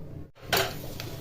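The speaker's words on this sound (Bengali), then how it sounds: "ক্যাপসিকামগুলি নাড়াচাড়া করে দেবো" Capsicum is stirred in a cooking pan, heard as one brief metallic scrape of utensil against pan, close and clear, followed by a fainter second clink and a low simmering hiss.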